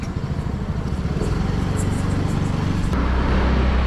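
A Yamaha RayZR 125 scooter rides through traffic, its steady engine drone and road noise loud and continuous throughout, with the engine note shifting slightly near the end; no one speaks.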